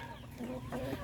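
Small, fully grown bantam chickens cluck softly and close by, their low murmuring calls faint against quiet background noise.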